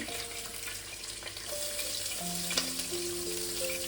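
Loud, steady sizzling of chopped garlic frying in hot oil, with occasional stirring and clinks from a utensil, no talking.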